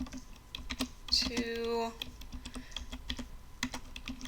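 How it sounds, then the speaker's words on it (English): Fast, light clicks of typing on a computer keyboard continue steadily throughout at moderate volume, with a brief tonal chirp near the start. "So for starters, I'm going to type welcome"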